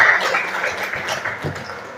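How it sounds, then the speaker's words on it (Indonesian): A classroom of students clapping for a classmate, a short, moderately loud patter of hands that fades slightly over two seconds. "Nah, tepuk tangan untuk temannya."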